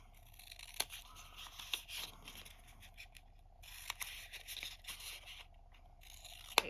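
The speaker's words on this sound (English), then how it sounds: "And then I'm going to cut at an angle." Scissors snipping through folded paper at an angle for a craft gift pouch, a few quiet crisp cuts with light scraping, close and alone in a quiet room.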